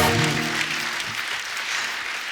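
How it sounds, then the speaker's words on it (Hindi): Studio audience applauding on a Kapil Sharma comedy show, a dense, steady burst of clapping close up, lasting a couple of seconds without any talk. "जोरदार ताली हो जाए"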